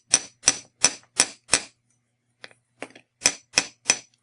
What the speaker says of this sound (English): As I hammer them, I pay very careful attention to what I'm doing so I don't distort the shape